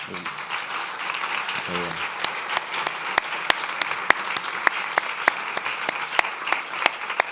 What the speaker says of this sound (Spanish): si le podéis dar un aplauso